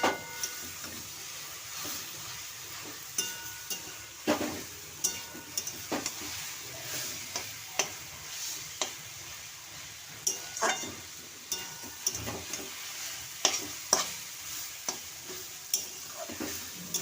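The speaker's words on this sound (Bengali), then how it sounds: "সুন্দর মতো ভাজা হয়ে যাচ্ছে।" Grated beetroot fries in a little oil as the pan is stirred, giving soft sizzling with regular light scrapes and ticks of the spatula, quiet and close, with no voices.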